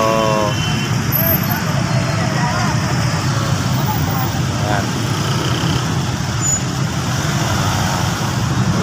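Congested road traffic holds a constant loud rumble of idling and creeping engines, with people talking over it and faint chirps higher up.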